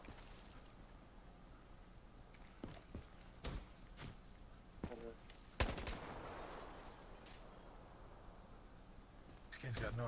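Scattered gunshots from a shooter in the Black Ops 3 multiplayer video game crack out as faint, separate bursts, one sharper report standing out midway, under low background murmur and voices.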